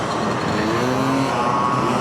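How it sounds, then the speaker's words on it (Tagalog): Group of motorcycles with loud aftermarket mufflers riding past on a road in Bulacan, a steady continuous engine roar throughout with no talking. "Anong mga motor kaya yan?"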